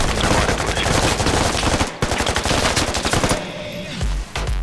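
Machine gun fire in the tactical shooter game Squad rattles in long, loud, rapid bursts with a brief pause partway through, close and dominant.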